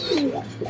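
A Hungarian breed pigeon gives a single short coo, a low throaty warble heard up close with no voices.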